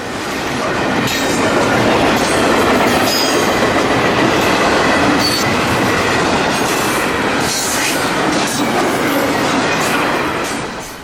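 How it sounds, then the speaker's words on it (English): An FEC freight train bound for Miami with container and piggyback cars rolls past close by in West Palm Beach, a loud continuous rumble with rhythmic wheel clatter and occasional squeals. "101 is headed to Miami with container, piggyback, and mixed freight traffic"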